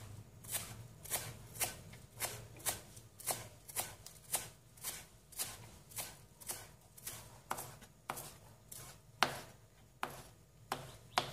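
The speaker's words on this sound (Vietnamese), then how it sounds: "Hành lá và rau mùi các bạn thái ra cho mình." Knife chopping green onions and coriander on a board, steady even strokes repeating about twice a second, close and crisp with no talk.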